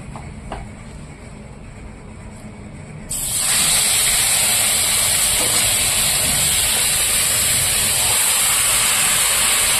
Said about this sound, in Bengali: এবার আমি এই তেলেই দিয়ে দিব ম্যারিনেট করে রাখা মাংসটা